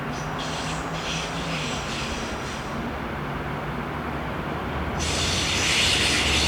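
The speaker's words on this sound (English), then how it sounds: "Diesel loco number 843088 has dropped its rake of cement wagons off at Limmattal and is seen making its way back" Swiss diesel locomotive 843088 running light back south along the mainline near Limmattal, a steady engine drone and rolling rail noise throughout, swelling louder toward the end.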